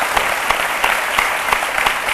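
Studio audience applause on a French-language midday TV talk show, a steady wash of many hands clapping at even loudness throughout, with no talking over it.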